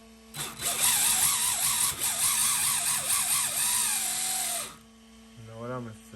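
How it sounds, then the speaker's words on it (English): An RC drift car's electric motor, repositioned on top of the chassis, whirs with a high, drill-like whine for about four seconds. The pitch wavers slightly before the motor cuts off abruptly, and a short voice follows. "Let's see if it'll run with the new motor moved on top."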